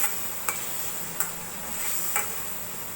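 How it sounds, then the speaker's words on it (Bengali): Spice paste sautéing in a pan for a Bengali rohu fish curry with lemon: a steady soft sizzle and a few sharp spatula scrapes and taps against the pan, close and alone. "এটাকে আবার একটু কষিয়ে নিব"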